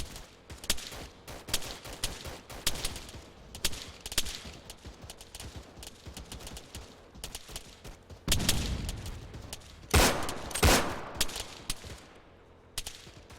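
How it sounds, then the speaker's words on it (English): Heavy machine gun fire in a military shooter game: rapid bursts and scattered shots crackle throughout, with denser, louder volleys and booms in the second half. "Good kill with that HMG"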